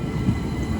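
A train passing through a station in Kent, heard as a steady low rumble of wheels and carriages close by, with no voices.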